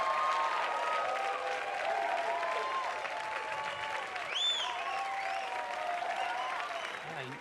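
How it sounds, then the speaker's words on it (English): Sustained applause from a large audience at a stand-up comedy show fills the room, dense and steady throughout, with a few whoops and cheers rising above the clapping. "Let's have another round of applause for James Taylor, everybody."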